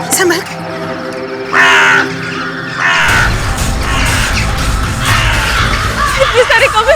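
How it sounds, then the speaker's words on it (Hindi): Many crows caw loudly and harshly in overlapping bursts, with frightened voices shouting over them. "इतने सारे कौवे।"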